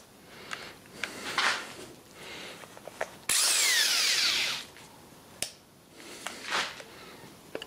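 A corded power drill with a rattling hammer mode runs in one loud burst of about a second and a half, framed by quieter handling and shuffling noises.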